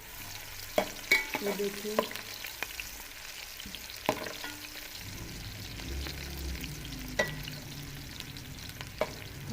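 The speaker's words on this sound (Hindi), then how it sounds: "हम अपनी प्याज को थोड़ा सा तलेंगे" A large onion fries in hot ghee, giving a steady close sizzle broken by sharp scrapes and taps of a spoon stirring the pan, with a brief spoken remark near the start.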